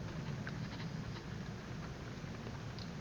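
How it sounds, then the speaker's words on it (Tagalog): Faint, steady rain hisses and patters continuously over mangrove mudflats, with occasional soft drops standing out against a low background rumble. "Medyo maulan pa mga idol."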